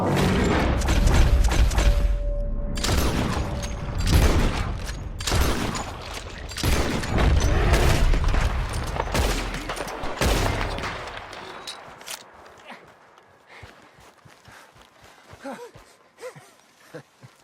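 Rapid gunfire fills a Red Dead Redemption 2 fight, with bursts and single loud shots coming close together for about ten seconds. A few scattered shots follow over quieter ambience, and voices call out between them.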